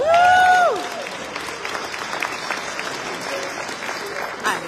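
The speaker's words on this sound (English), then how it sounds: "Give that a round of applause." An audience applauding at an MBCA Foundation event in Atlantic City. A voice briefly opens, then steady crowd clapping fills the rest, moderately loud and continuous.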